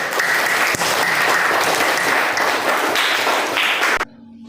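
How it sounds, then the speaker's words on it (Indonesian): A classroom of students applauds a classmate, dense loud clapping that holds steady for about four seconds and then cuts off abruptly to near silence. "Kasih aplaus untuk Saudari Leti"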